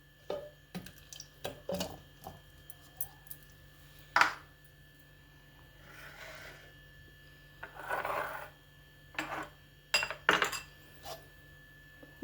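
Chunks of medium-sized muskmelon (kharbuja) dropped into a container for a fruit milkshake, giving a series of brief, close clinks, rubs and soft scraping thuds at irregular intervals in a quiet kitchen.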